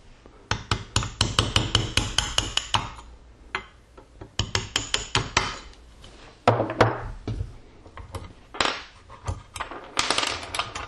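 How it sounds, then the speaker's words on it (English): Rapid series of sharp metallic taps driving the trigger assembly pins out of a Remington 870 shotgun, loud and close in quick bursts with short pauses between runs. "We'll just tap these two pins out."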